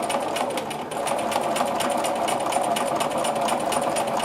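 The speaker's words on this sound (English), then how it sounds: "slow sewing speed, and yes, I do sew quite slowly." A sewing machine runs at slow speed while stitching a quilting line, giving a steady, close mechanical whir and chatter that holds constant throughout, with no voices.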